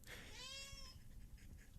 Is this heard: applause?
no